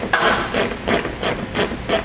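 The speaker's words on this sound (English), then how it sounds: "we'll grab a 7mm socket and remove all 3 of those" A 7mm socket ratchets out bolts on the front fascia of a 2016 Chevrolet Colorado, giving a steady series of six rasping clicks at even intervals, close up with no talking.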